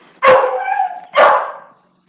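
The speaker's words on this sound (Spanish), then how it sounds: "se enojó el perro" An angry dog barks twice, loud and close, each bark a sharp burst trailing into a whine, with no talking over it.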